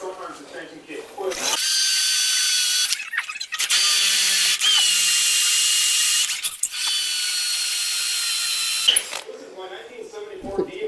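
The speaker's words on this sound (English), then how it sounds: "it's easier to drill them out" A power drill bores out the rivets on a 1966 C10 truck frame in three sustained, loud high-pitched runs, with short pauses between them. Brief talk and clatter come before and after the drilling.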